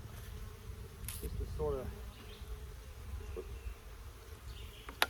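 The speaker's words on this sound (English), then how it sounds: "So these bees seem pretty calm, which is a good sign." Honeybees buzz around an open beehive on a farm in spring. A faint, steady hum runs through the background while someone talks quietly over it, with a few soft knocks and clicks.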